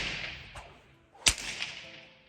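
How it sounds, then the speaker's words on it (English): A bullwhip cracks once beside a calm horse, one sharp loud snap after a softer swish, with a faint airy background before and after. "this is a bullwhip, and it makes a very loud crack"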